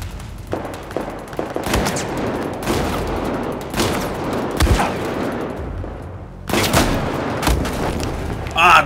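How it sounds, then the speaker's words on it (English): Gunfire in the Battlefield 4 single-player campaign: repeated rapid bursts and booming shots, loud and close, with heavy rolling echoes and brief gaps between volleys, mixed with background battle noise. "Where's he shooting from?"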